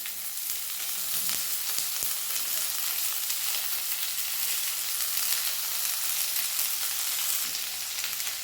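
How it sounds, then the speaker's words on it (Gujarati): Sesame seeds, green chillies and peanuts frying in oil in a pan, a continuous bright sizzle with a few light stirring clicks and no talking. "એની અંદર મેં આ 2 ટેબલ સ્પૂન તલ લીધા છે તે એડ કરીશું અને સાથે જ આ મરચાં અને સિંગદાણા એડ કરી દેવાના।"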